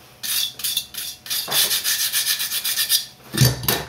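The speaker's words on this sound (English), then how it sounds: "maybe scratch it up with some sandpaper" Sandpaper scratching back and forth across a model airplane part, a rapid rhythmic rasping of short strokes, close and fairly loud with no talking.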